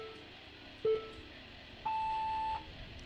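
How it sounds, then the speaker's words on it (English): Electronic finishing beeps sound at a model aircraft race: a short tone, then a longer steady beep of under a second, clear over quiet background noise. "there's the finishing beeps."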